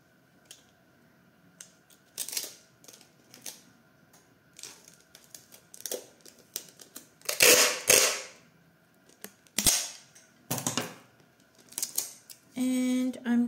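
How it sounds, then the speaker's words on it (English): Packing tape is pulled and pressed down over a magazine page, giving scattered short crackles and tearing bursts of varying loudness, with a quick rapid stutter of unspooling near the end. "And I'm just going to tape this part."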